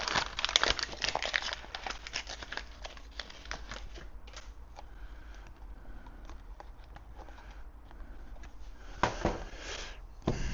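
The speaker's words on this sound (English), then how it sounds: "Now let's see if I can get the paper off." Protective paper is peeled and crumpled off a powder coating oven panel: dense crinkling and tearing bursts, louder at the start and again near the end, with quieter rustling in between and no talk.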